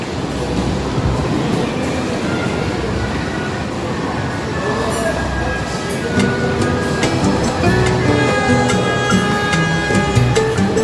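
A jungle-themed train ride runs through a shopping mall, giving a steady, loud rumble of wheels and cars that builds slightly toward the end, with busy indoor crowd noise mixed in.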